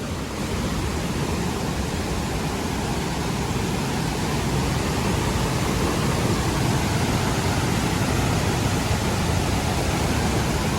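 A powerful waterfall in the Konkan region roars as a loud, continuous broadband rush of falling water that stays steady throughout, with no voices.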